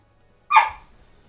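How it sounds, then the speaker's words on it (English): A single sharp bark from a pet dog named Percy, close by and loud, lasting about half a second before fading into quiet room noise. "Now we hear the dog barking today."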